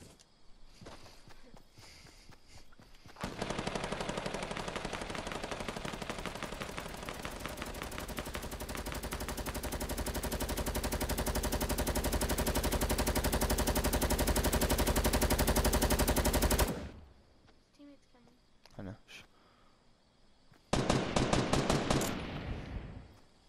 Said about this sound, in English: They're fighting right now. I can hear them sniping each other.